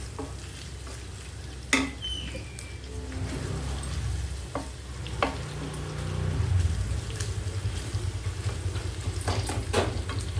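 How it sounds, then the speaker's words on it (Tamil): Large onions sautéing in oil in a pan for a potato gravy, with soft continuous sizzling and occasional stirring clinks and scrapes, steady and close with no talking. "பெரிய வெங்காயம் நிறைய நம்ம வணக்கிக்கணும் கொஞ்சம் எண்ணெய் உண்டு ஊற்றினா தான் இதுக்கு நல்லாயிருக்கும்"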